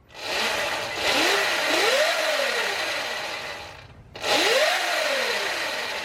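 A Sur Ron Light Bee electric bike motor, fitted with a controller kit, whines up in rising pitch sweeps under throttle, eases off, cuts briefly, then spins up loudly again, close by.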